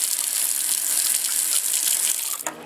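Hot water gushes steadily from a faucet into a sink, a close continuous hiss that stops abruptly near the end.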